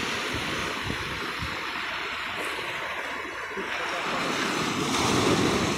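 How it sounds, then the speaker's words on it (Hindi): Sea waves break and wash along a shore under steady wind, a continuous rushing surf that swells louder toward the end, with faint speech in the background. "ये देखिए, बिल्कुल अमेजिंग अमेजिंग लहर आ रही है।"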